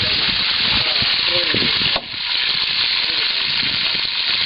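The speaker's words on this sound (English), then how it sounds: "Oh, he's frying bananas." Loud, steady sizzling of bananas frying in a hot pan, with a brief stir or shift midway.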